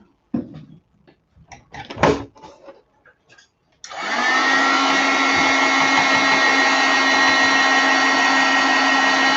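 A hair dryer blows on freshly stamped silver ink on a card, switching on after a few soft handling knocks and running as a loud, steady whoosh for the rest of the stretch.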